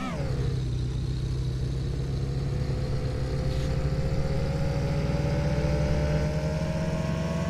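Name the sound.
car engine revving in video game Car For Sale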